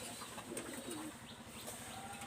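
A pair of baby Royal Teddy pigeons coo softly and faintly, with low rolling murmurs, a few thin chirps and light background rustling.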